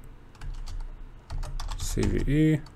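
Keys clacking on a computer keyboard in a fast, close burst of typing, with a voice briefly speaking partway through.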